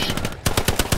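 Rapid automatic gunfire in Hell Let Loose, a quick burst of loud, close shots evenly spaced over about a second.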